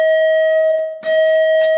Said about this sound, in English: I think that's the last bell that you will hear during this lecture.